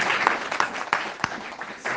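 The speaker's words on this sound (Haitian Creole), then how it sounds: "on applaudit cet esprit de Dieu." A church congregation applauds during a sermon, a steady wash of clapping from many hands at middle distance, with a few sharper individual claps standing out and no clear voices.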